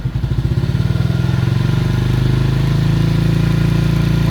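A motorcycle engine runs loud and close, with rapid pulsing firing that quickens as the revs rise gently and then holds at a steady, moderate pitch.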